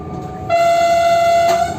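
A Polish railway train sounds its horn as an attention signal, one loud, steady, close blast that starts abruptly and holds for over a second over the rumble of the moving train.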